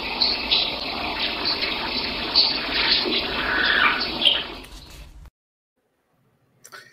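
Water runs and gushes in a played-back paranormal evidence recording, a rushing tap-like flow with a few brighter splashes, fairly loud for about five seconds before cutting abruptly to silence, then a faint brief noise at the end.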